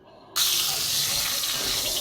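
Brinjal pieces coated in salt and turmeric hit hot mustard oil in a wok and start sizzling with a sudden burst. The bright, steady hiss then continues.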